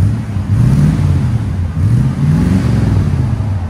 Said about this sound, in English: Here's with the Borla muffler.